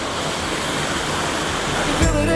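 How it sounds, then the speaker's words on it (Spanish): Water flows over a platform on Ometepe island in Nicaragua, a steady close rushing wash that continues throughout, with a brief louder splash near the end. "Miren, este es el lugar donde fluye el agua, ¿ven?"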